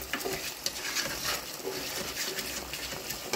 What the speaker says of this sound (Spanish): Vamos a deshacer, mezclar bien el huevo con el arroz.